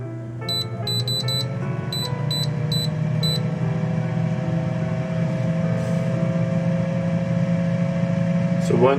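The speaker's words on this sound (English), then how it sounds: "So let's preheat the oven, the air fryer." An air fryer being preheated, giving a run of short electronic beeps from its control panel near the start, then a steady low hum under background noise.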